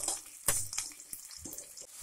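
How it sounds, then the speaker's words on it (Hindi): Onion, green chili and curry leaves fry in ghee for Gujarati-style upma while a spoon stirs the pan, giving a faint, close sizzle with soft, irregular scraping strokes. "और ये प्याज और हरी मिर्च डाल दूंगी, करी पत्ता डाल दूंगी। अब इसको हम चलाते हैं"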